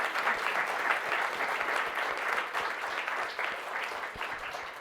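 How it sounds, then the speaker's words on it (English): Sustained audience applause for Dr. David Krause after a talk on Madagascar fossils, a dense steady wash of many hands clapping at moderate level for about five seconds with no talking. "Let's give a round of applause to Dr."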